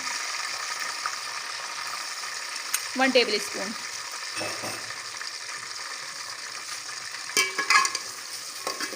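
Chicken for a spicy masala nihari sizzles and fries in a pan while being stirred, a steady close crackle with scraping bursts of stirring; a voice speaks briefly.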